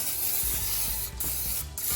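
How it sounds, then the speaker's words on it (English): Olive oil cooking spray is sprayed onto a baking pan in a home kitchen, a loud close hiss sustained over the whole stretch and broken by two brief pauses, with no talking. "I'm spraying this with some olive oil"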